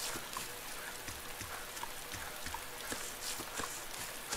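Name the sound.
rain in video game DayZ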